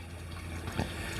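Water rushing into a gravel vac siphon tube being refilled by hand, a continuous close gurgling wash with a brief louder slosh partway through.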